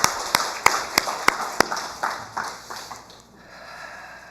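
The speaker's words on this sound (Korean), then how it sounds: "우리 시온 찬양대위에 격려의 박수 한번 하도록 하겠습니다." A church congregation gives the Zion choir a brief round of encouragement applause during Sunday worship: a handful of sharp, evenly spaced claps in the first second and a half, then softer scattered clapping that fades out.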